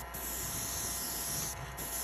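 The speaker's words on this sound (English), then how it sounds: "See how light that sprays?" A light coat of Conmart paint sprays onto a perch fishing lure, a steady airy hiss running close and continuous for a couple of seconds with a brief dip near the end.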